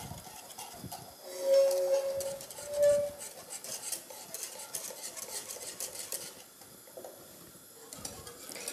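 A spoon stirs and scrapes through a flan mixture in a bowl, with a few louder metallic clinks of two spoons working together, steady and close, with no talking.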